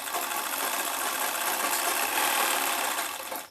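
A sewing machine stitches the neckline of a padded blouse, a steady dense mechanical whirr running continuously and close for a few seconds before stopping at the end.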